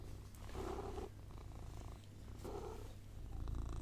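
A cat purrs up close in slow, steady rumbling cycles of inhale and exhale, soft and continuous with no speech.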